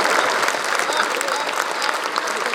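Audience applause fills a comedy show hall at a Hindi satirical poetry event, a dense, steady wash of clapping that holds loud and continuous throughout without letting up.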